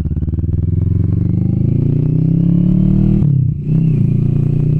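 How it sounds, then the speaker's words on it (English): Kawasaki Vulcan S 650 Cafe ABS motorcycle engine revving up loudly and close, a steady rising drone that dips briefly as if through a gear change before pulling strongly again. "Definitely sounding like a crotch rocket."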